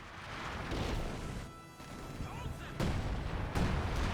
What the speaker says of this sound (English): Nope, it's the all-star artillery barrage.